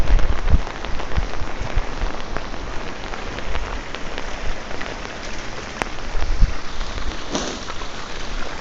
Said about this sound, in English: we're having a pretty good rain